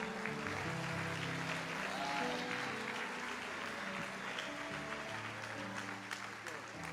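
Church congregation applauds through a sustained wash of clapping, with music and a voice carrying underneath throughout.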